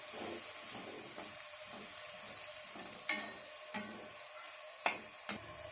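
Cooked beans stirred together with ground roasted gram powder in a pan, a steady soft sizzle under scraping and stirring strokes, with a few sharp clinks of the spoon against the metal.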